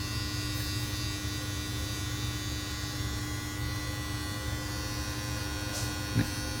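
Steady close-up buzz of an electric hair trimmer running continuously as it trims a mustache, a constant motor hum with no speech.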